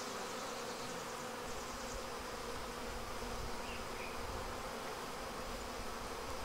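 Honeybees in an apiary hum steadily around open hive frames, a dense, continuous close-up buzz with no pauses and no voices.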